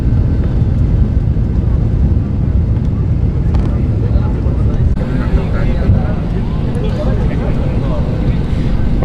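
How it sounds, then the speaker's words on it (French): Steady, loud low-frequency roar of an airplane cabin in flight on a four-hour trip, a constant engine and air drone filling the background without pause. "je suis dans l'avion, là j'ai 4 heures de vol"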